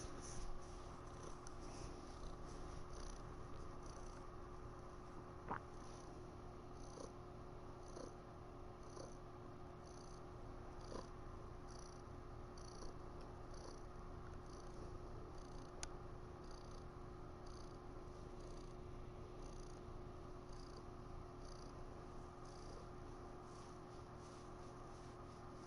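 A cat purrs softly and steadily, close by, a continuous low rumble that carries on without pause, with no talking over it.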